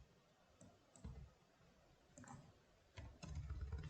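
Typing code on a computer keyboard during a JavaScript lesson: a few scattered key clicks in quiet, with a denser burst of keystrokes toward the end.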